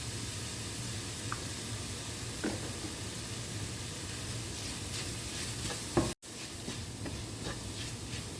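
A milk powder and cardamom filling for elanji is stirred in a hot pan, with a soft steady sizzle and occasional scraping strokes, heard up close without voices.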